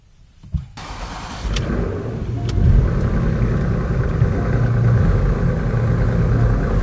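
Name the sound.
Porsche Panamera car engine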